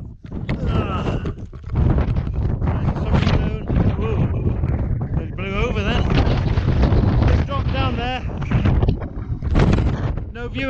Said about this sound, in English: Summit of a Garn and a bit windy.